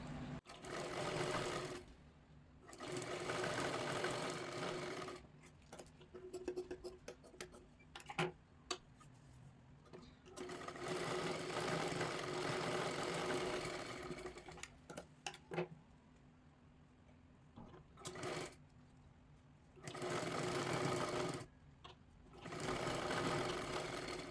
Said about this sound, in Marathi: व्यवस्थित शिलाई मारून घ्यायची आहे